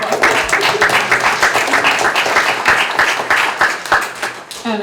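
An audience bursts into dense, sustained applause at a community talk, many hands clapping loudly and evenly for several seconds.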